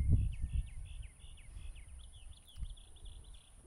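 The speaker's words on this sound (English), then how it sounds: "The beautiful birds you hear right now, they're not random." Birds sing faintly in the distance, a rapid series of thin repeated chirps over low rumbling background noise and a faint steady high whine.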